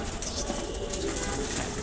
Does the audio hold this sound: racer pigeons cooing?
yes